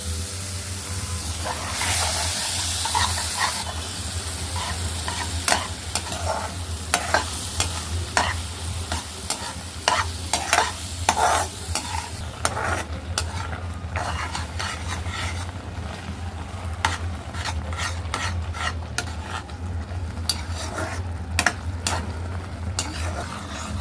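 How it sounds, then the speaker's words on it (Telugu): Carrot halwa being stirred in a pan after milk is poured in: repeated sharp spoon scrapes and clinks against the metal over a low bubbling sizzle, close and fairly loud, with no one talking. "ఇప్పుడు పాలు పోసాము బాగా కలుపుకొని అది బాగా ఉడకాలి"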